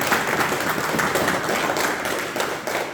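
Continuous applause and clapping from a group of young boxers gathered in a sports school training hall for a Victory Day celebration, loud and steady for the full stretch without pause.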